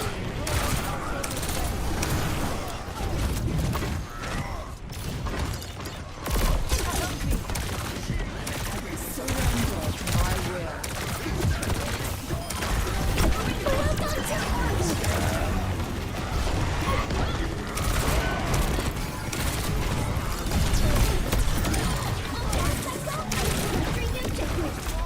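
Continuous rapid video game gunfire, dense bursts and booms that carry on without letup, with a voice talking over the shooting.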